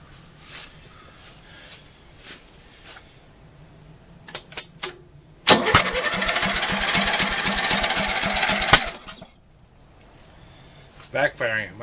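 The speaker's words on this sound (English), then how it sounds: "Backfiring. Might have the timing off." A swapped-in lawn mower engine cranks with a few sharp pops, then catches and runs loudly for about three seconds with rapid rough firing and backfires before cutting out, close by.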